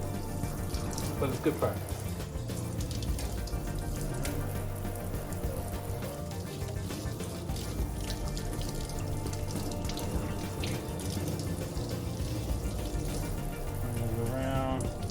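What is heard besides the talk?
rinsing hands under running water during surgical scrub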